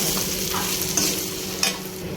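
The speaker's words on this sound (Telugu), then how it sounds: "సాల్ట్ వేసుకొని కొద్దిసేపు ఫ్రై చేసి తీసేసుకోవాలి" Drumstick leaves with salt frying in a pan, a short, steady, close sizzle with a couple of brief stirring clicks.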